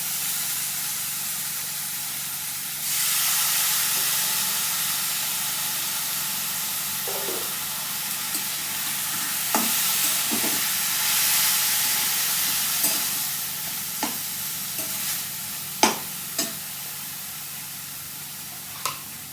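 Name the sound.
sautéing boiled banana flower with turmeric and spices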